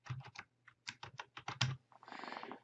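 Someone types a chat message on a computer keyboard, a quick run of crisp, close key clicks in uneven bursts followed by a softer, denser patter, with no talking.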